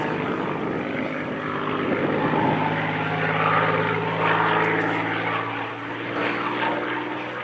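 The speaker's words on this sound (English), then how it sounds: "this wonderful Spitfire 11" An unarmed Supermarine Spitfire Mark 11 photo reconnaissance aircraft flying at an air display, its propeller engine a loud, steady drone that rises and shifts in pitch as it passes, heard alone.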